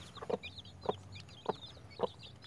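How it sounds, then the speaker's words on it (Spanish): An escaped chick peeps in rapid high chirps, with low clucks from a hen or other fowl sounding in four evenly spaced bursts, close and fairly quiet. "se salió un pollito"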